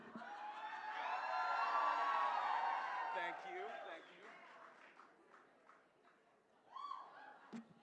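A charity live auction audience cheers and whoops loudly for a few seconds, then the noise fades into scattered voices and a brief second burst near the end.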